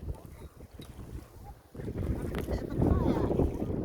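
Strong gusts buffet the microphone in a low rumble on the Croatian coast, growing noticeably heavier partway through, with faint Adriatic Sea sounds beneath.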